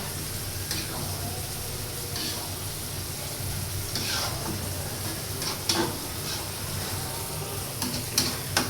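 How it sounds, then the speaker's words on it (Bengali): A frying dish with Bombay chilli stirred in a pan, a continuous sizzle with scraping spatula strokes and occasional sharp clicks, close by. "একটু বোম্বাই মরিচ দিচ্ছি, সব কিছু মিলিয়ে মিক্সড করে নেড়ে ছেড়ে 1 মিনিট পরে নামিয়ে নেব"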